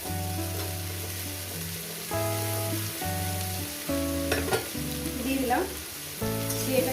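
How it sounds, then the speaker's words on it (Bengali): Onion fries in a pan with salt for a fish and radish curry, a soft continuous sizzle running under a louder melodic backing track, with a few clinks of stirring near the end. "পেঁয়াজটাকে ভেজে নেব"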